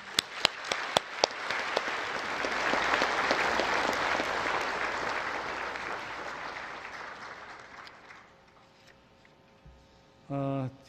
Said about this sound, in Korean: 우리 고명진 목사님께 뜨거운 박수 한번 부탁드리겠습니다.